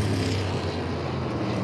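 USAC Silver Crown race car engine roaring on a dirt oval track, a steady loud drone as the car runs down the back straight, with no talk over it.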